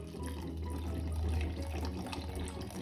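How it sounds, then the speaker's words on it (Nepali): A little water poured into red spaghetti sauce cooking in butter, a steady close trickle running under a faint background hum, with no talking. "पानी थोरै हालौँ"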